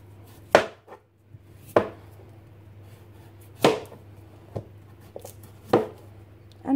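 Sharp knife chops through peeled taro on a cutting board, about six distinct close strikes at an uneven pace over a low steady hum, no talking.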